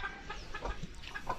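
Chickens clucking close by in a backyard flock, soft scattered clucks and murmurs over a quiet outdoor background, no talking.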